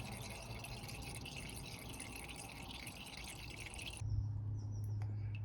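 Automatic transmission fluid dripping from the drain plug of a Toyota Yaris with a 4-speed automatic, heard as a steady close trickle of liquid that turns into a louder, fuller splashing into the catch container near the end.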